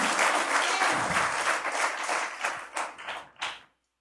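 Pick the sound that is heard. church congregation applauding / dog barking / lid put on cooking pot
church congregation applauding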